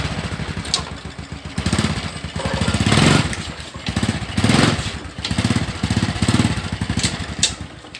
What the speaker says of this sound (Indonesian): Lalu kita langsung coba tes koplingnya.